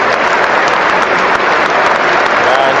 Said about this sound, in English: And standing ovation for Botman, a real crowd favourite.